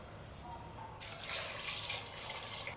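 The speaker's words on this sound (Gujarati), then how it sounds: "બે ગ્લાસ જેવું પાણી એડ કર્યું છે" About two glasses of water are poured into a pot of potatoes, a brief gushing splash rising then settling, faint and close, over a low background hum.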